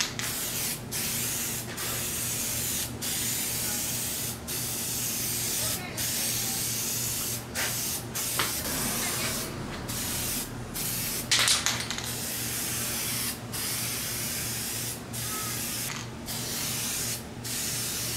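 A spray gun lays a coat of paint on the rear finish panel of a 1990 Mazda Miata under restoration, a close, continuous hissing spray cut by brief regular pauses between passes.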